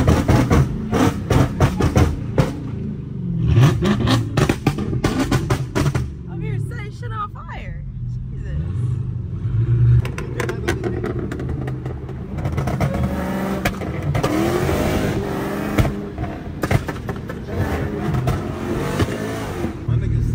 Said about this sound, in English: you want me to do a burnout